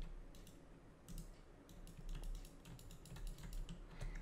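Rapid, light clicking, likely of a computer mouse, comes in quick irregular bursts during a video game, faint and close, with no voices.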